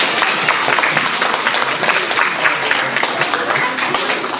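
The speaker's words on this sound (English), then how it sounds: "Round of applause again for Anthony group 5." Audience applause at a children's retreat, steady dense clapping from a crowd that fills the whole stretch at an even, lively level.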